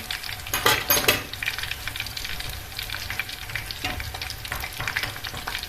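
Tomato paste frying with potatoes in a pan, a steady sizzle with a few louder stirring scrapes near the start and again briefly later, close and alone with no talk.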